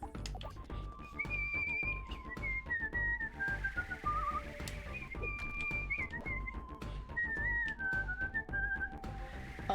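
A person whistles a lively melody close into a Yeti microphone, with steady wavering notes continuing for about ten seconds over busy background game sounds.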